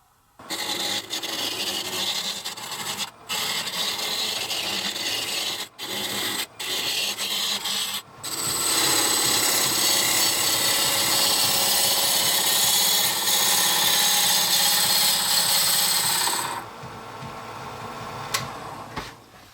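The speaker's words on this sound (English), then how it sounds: "I want to turn this down to the largest cylinder that I can" A wood lathe turning a block of wood down into a cylinder, with a tool scraping and rasping against the spinning workpiece in loud, sustained passes, broken by short pauses early on before a long continuous cut.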